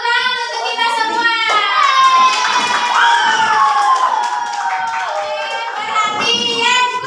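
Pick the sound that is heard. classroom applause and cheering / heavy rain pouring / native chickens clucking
classroom applause and cheering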